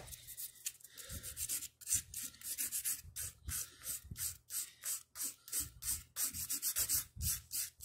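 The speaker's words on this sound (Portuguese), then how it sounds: "Vamos lá, dar aquela velha lixadinha." A file sands an artificial nail tip in quick repeated back-and-forth strokes, close and crisp rasping with brief pauses, no voices.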